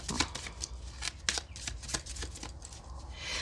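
Tarot cards are shuffled by hand in a quick, rhythmic series of crisp riffles and snaps, close and fairly soft, with no talking.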